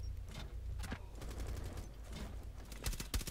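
Gunfire in Rainbow Six Siege: rapid bursts of automatic shots crackle at moderate distance, with sharper, louder shots clustered near the end.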